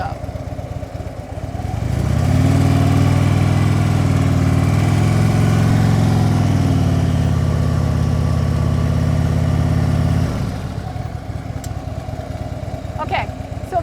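Motorcycle engine rising from a low idle into a steady, louder drone for about eight seconds as the bike rolls slowly through a tight U-turn in the friction zone with light rear braking, then easing back to idle.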